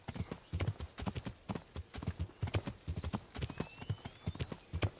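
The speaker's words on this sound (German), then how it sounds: "Wir reiten ins Querfeld ein." A horse gallops cross-country in the video game Kingdom Come: Deliverance, its hooves pounding in a steady rhythmic clip-clop, moderately loud and close, with faint background ambience and no talk.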